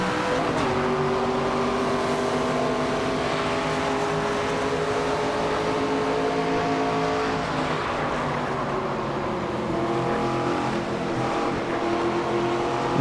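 Race cars at Phoenix in the NASCAR 25 video game, a loud continuous engine drone with shifting tonal whine as the pack accelerates and eases off, steady and close without talk.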